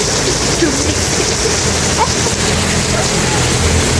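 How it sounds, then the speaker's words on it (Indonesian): Heavy rain pours down steadily in a continuous broadband hiss with dense patter, loud and close throughout, with no voices over it. "Makin deras, makin hujan."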